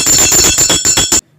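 A metal triangle struck with a beater rings with a bright, sustained high tone, hit about seven times in quick even succession, loud and close, before it stops abruptly.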